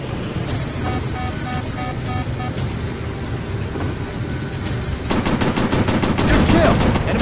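Rapid machine gun fire from a World War II warplane in a night-mission Pacific air combat game, heard as loud staccato bursts over a steady engine drone, the firing growing sharper and denser toward the end.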